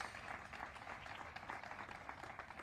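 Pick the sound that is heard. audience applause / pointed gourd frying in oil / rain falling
audience applause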